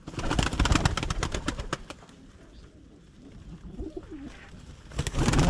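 A pigeon coos softly in low, rolling murmurs amid a busy flutter of other bird noises nearby in a pigeon coop.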